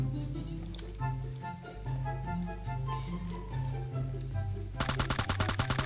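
Gunfire in a squad-based battle royale shooter game, with a dense burst of rapid rattling shots near the end over a steady game soundtrack.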